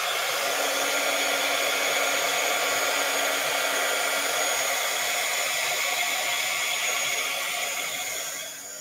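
A hair dryer blows on wet watercolor paint, a loud, steady whirring hiss held close by for nearly nine seconds before easing slightly at the end.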